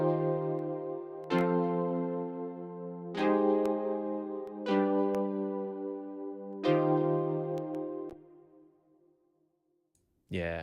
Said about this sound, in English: And here's a few different kind of like synth pads.